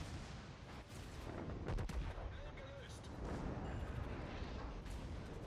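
Torpedoes strike the battleship Tirpitz in the World of Warships naval game, heavy booming impacts and rumbling blasts rolling one after another over a constant low battle din.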